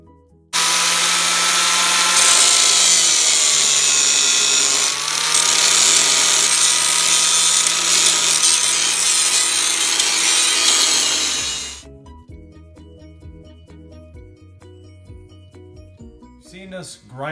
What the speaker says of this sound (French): Vous avez vu enlever les têtes des rivets avec la meuleuse.